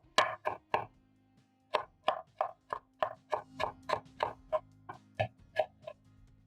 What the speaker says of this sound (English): I'm going to chop up my clean coriander